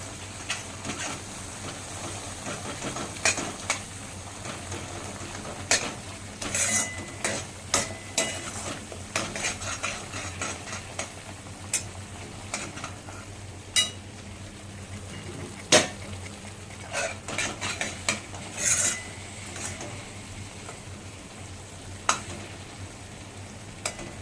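Chickpea (chole) curry gravy roasting in oil in a pan, a low steady sizzle under frequent sharp clinks and scrapes of a spoon stirring against the pan, close and continuous.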